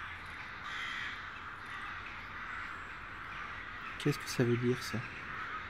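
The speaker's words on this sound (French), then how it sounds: "je vois que les oiseaux s'excitent" Crows caw in the video game Stalker Anomaly, Escape From Pripyat, with a short burst of several harsh calls near the end over a low ambient hum, and someone speaks briefly.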